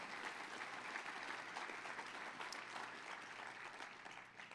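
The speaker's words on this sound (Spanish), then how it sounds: "un aplauso a Jesús" A church congregation applauds Jesus during a Spanish-language service, a continuous faint wash of many hands clapping from a distance for the whole stretch.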